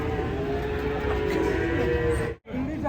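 A cow just unloaded from a truck moos in a long, loud, drawn-out call close by, broken by a brief gap before the sound resumes.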